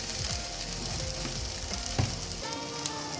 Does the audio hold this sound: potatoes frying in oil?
yes